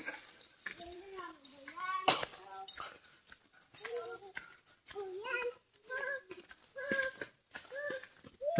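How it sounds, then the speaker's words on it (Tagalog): A dog whimpers and yips in short, high, wavering bursts, close by and fairly faint, with a few sharper yelps and jangling sounds mixed in. "Dahil ka magdulag dyan, may aso dyan."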